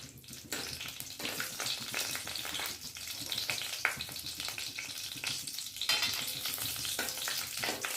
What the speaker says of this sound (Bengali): ওই একই তেলের মধ্যে ফোড়নে দিচ্ছি 2টো শুকনো লঙ্কা, 2টো এলাচ, 2টো লবঙ্গ, একটু দারচিনি আর একটা তেজপাতা